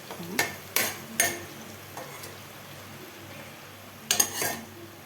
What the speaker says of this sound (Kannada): ಬದನೆಕಾಯಿ ಕೂಡ ಆಯಿಲಲ್ಲೇ ಬೇಯಬೇಕಲ್ಲ ಸೊ ಹಾಗಾಗಿ ಫ್ರೈ ಮಾಡ್ಕೊಳ್ತಿದ್ದೀನಿ ನೀಟಾಗಿ ಹಾಕ್ಕೊಂಡು